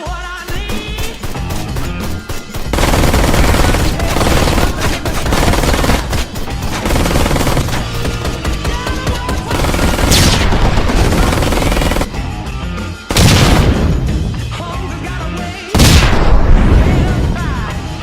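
Turret machine gun fire in the video game Ride to Hell: Retribution, loud sustained rapid bursts mixed with booming explosions and crashes, continuous dense gunfire with brief gaps, no talk.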